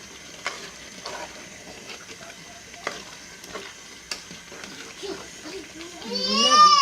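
Okra soup ingredients being stirred together in a pot, with scattered scraping clicks of a spoon against the pot and soft bubbling, while a child's cry rises toward the end.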